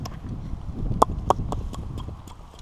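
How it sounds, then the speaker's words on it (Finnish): Horse hooves clip-clop on a road, a series of sharp, fairly close knocks at a walking rhythm over low background rumble. "Hevonen on tiellä."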